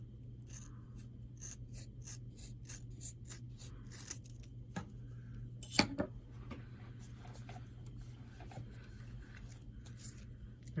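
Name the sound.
cutting folded paper for a playing card notebook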